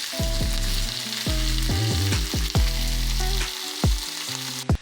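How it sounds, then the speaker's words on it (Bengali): Spice masala fries with mustard paste and a little water in a pan for a sea fish curry, a loud close sizzle broken by repeated sharp spoon scrapes and clanks, some of them ringing. "সর্ষে বাটা দিয়ে সামান্য জল অ্যাড করে ভালো করে কষিয়ে নেব যাতে মশলাটা তলায় ধরে না যায়"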